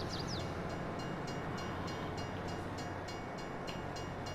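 A train in Farming Simulator 22 rolls past on the Silverrun Forest map. It gives a continuous rumbling rail noise with a regular clatter, and a brief high horn or whistle sounds at the start. The train is fairly close and no one talks.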